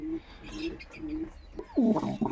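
A Kaldama pigeon coos several times in a small home loft, with soft low rolling calls near the start and a louder, close, falling coo toward the end over faint background noise.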